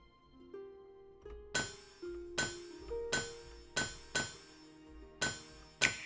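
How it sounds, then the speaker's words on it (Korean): Hammer strikes on metal in a blacksmith crafting game, about eight sharp clanging blows at an uneven, roughly steady pace, each ringing briefly over a quiet tonal backdrop. "이번엔 망치질을 엄청 많이 해야 되네"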